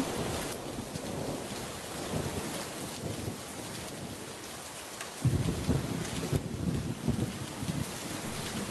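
Steady rain pours in a cartoon storm scene, a dense continuous hiss, with low thunder-like rumble building toward the end; no one talks.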